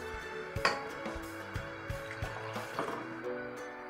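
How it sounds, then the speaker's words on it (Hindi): Half a glass of water goes into a pressure cooker holding chopped onion and tomato for goat trotter paya, a faint pouring trickle with small drips and clinks. "इसमें आधा ग्लास पानी डालूंगी।"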